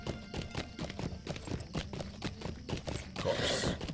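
Horse hooves clip-clop in a steady, brisk rhythm in a fantasy online role-playing game, loud and close, with a brief burst of game sound near the end and no talking over it.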